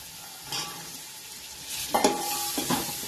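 Vegetables such as cauliflower and peas being stirred in a hot pan for pav bhaji, with a steady sizzle and a few clattering scrapes of the spoon near the end, close and moderately loud, no talk.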